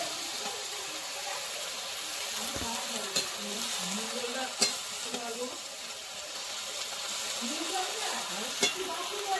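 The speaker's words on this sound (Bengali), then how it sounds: "আলু শাক মিশিয়ে নেবো বেগুন আর শিমের সঙ্গে ভালো করে।" Potato greens are stirred into frying eggplant and beans in a pan, giving a continuous close sizzle with occasional spatula scrapes and clacks spread across the stretch.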